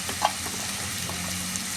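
Spices including turmeric, chili powder and garam masala fry in a pan for egg masala, giving a steady close sizzle with a few small clicks of stirring; no voices.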